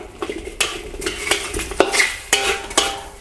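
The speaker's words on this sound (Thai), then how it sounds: "แล้วก็คั่วให้พริกสุกเกลียมเลยครับ ให้พริกให้มะเขือเทศนะครับ มีผิวที่สุกเกลียม" Fresh chilies and three tomatoes dry-roast in a hot pan for Thai jaew, stirred with a utensil that scrapes and clinks against the metal in irregular strokes over a soft, steady sizzle. The sound is close and has no talk.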